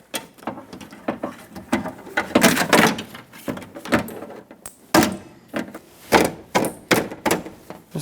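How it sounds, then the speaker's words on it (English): Push clips are pressed into a door panel on a Ford E-350 cargo door, giving a string of sharp plastic snaps and dull thumps at an irregular rhythm, close and fairly loud. "Just put in all the push clips that held it on."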